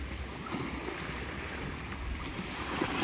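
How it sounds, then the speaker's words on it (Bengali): Sea waves wash against a village shore where boats lie nearby, a steady, broad rushing surf with soft wind, heard alone at moderate distance without voices. "আর শুধু ঢেউয়ের আওয়াজটুকু শোনো।"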